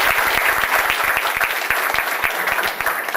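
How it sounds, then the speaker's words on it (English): A short burst of audience applause honoring Shirley at a community business meeting, a dense, even clatter of many hands held steady throughout. "Give her a round of applause"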